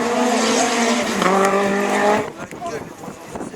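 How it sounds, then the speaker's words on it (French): Rallycross cars from a 2012 French championship Division 4 race at Lessay accelerate hard through a long curve, loud engine roar with rising revs and some tire squeal, fading abruptly as they pass, with a commentator talking over them. "la grande courbe, on prend de la vitesse pour attaquer la ligne droite de l'arrivée"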